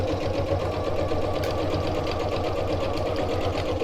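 A sewing machine runs steadily, stitching a 3/8-inch seam on a reversible fabric tote bag, its fast even motor hum and needle chatter continuous and close throughout.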